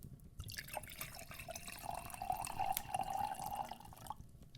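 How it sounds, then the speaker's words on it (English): Wine poured into a glass beside a crackling fireplace, a soft steady liquid stream rising in pitch as the glass fills over a few seconds, quiet and close with no talking. "I poured the wine"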